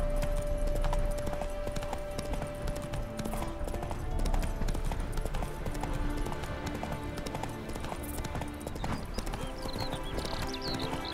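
Horse hooves galloping across the ground in The Witcher 3: Hearts of Stone, a continuous rapid clip-clop with a brief whinny, steady and fairly loud, mixed with game ambience and no speech.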